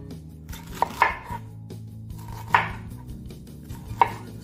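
Cauliflower is chopped into small bits on a cutting board, a few sharp, distinct knife knocks spaced about a second apart, close and clear, with no talk.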